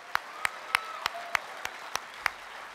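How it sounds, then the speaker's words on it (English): Sparse, evenly spaced single claps ring out from a small audience at a corporate furniture-business gathering, about eight sharp claps over a faint room hum. "Please give him a round of applause."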